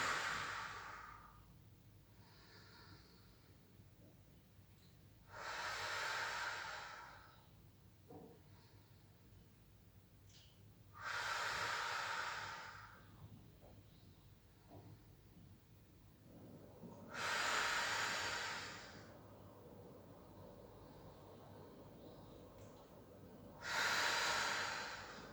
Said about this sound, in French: On inspire par le nez. Expire bouche.